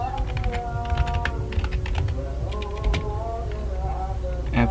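Close, rapid keystrokes on a computer keyboard while entering a hostname and interface in a network configuration, with one firmer key press standing out and a voice talking faintly underneath.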